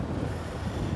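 Waves and gusting wind at the mouth of the Murray River in Australia, a dense, rumbling wash of surf mixed with heavy wind buffeting on the microphone, constant and loud throughout.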